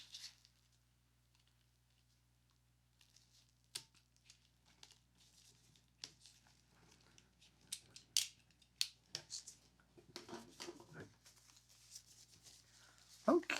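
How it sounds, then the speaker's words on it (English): Scissors snip and slice through packing tape on a box holding a Boss SDE-3000EVH delay pedal, scattered sharp cuts and crinkles over near silence, loudest toward the end. "So we will just cut the tape so that we can"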